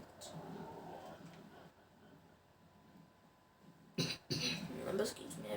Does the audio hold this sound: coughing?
yes